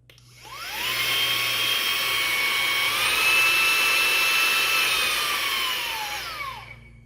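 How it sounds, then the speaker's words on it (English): A Bebuy cordless handheld car vacuum cleaner runs as a blower, its motor whining up, holding a loud steady whir that shifts pitch once, then spinning down. "So I think this really is just for the blower portion."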